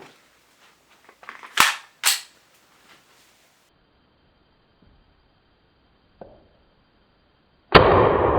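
An airsoft gun fires .28 Tippmann 6mm BBs with two sharp, close snaps in quick succession, a few faint clicks around them, then quiet and a final abrupt loud burst of hiss at the end.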